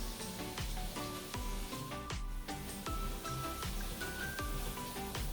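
Anchovies fry in a pan with garlic, shallot and chili, giving a steady, bright sizzle with regular scraping strokes of stirring throughout, close and continuous.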